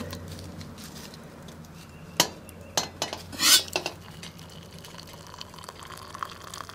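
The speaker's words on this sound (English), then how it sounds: "Let's pour some coffee." Coffee poured from a pot brewed on a Silverfire Scout compact wood gasifier stove: a few sharp metallic clinks and a brief splashy pour, close and fairly quiet, with no talking.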